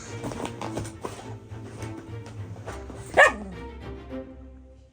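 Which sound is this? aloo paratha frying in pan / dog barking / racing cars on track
dog barking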